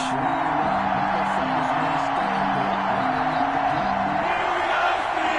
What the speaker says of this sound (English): This crowd is ready as their guys get set to match up between the Cleveland Browns and the Pittsburgh Steelers